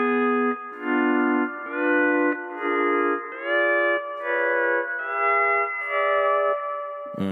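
A twangy, sliding pedal steel guitar plays a string of sustained diminished chords, each swelling in and ringing with a slight echo, about seven chord changes in steady succession.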